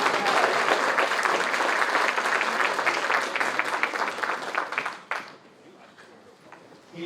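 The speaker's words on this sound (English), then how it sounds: "and a round of applause for Sergeant Williams." Audience applause at an Army Adjutant General Corps Hall of Fame ceremony, a dense burst of many hands clapping that holds steady for about five seconds, then quickly dies away to a faint, sparse patter.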